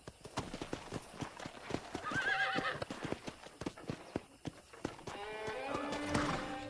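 Horse hooves clip-clop in a steady walking rhythm in the Red Dead Redemption video game, with a horse's whinny partway through and another neigh blending with game sounds near the end.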